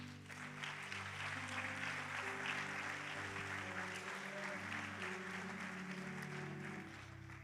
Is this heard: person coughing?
no